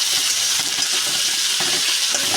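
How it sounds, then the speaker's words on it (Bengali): Onion and chopped tomato frying together in a pan, a dense continuous sizzle with a few soft stirring knocks, heard up close without speech. "পেঁয়াজটা দিয়ে দিলাম, টমেটোটাও দিয়ে দিলাম, টমেটো কুচি, এবার এই দুটো আবার ভেজে নিই।"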